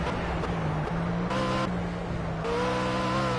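A race car engine in the Project CARS video game revs and drops through gear changes under braking and acceleration, a close, steady engine whine with stepped pitch shifts and no voice over it.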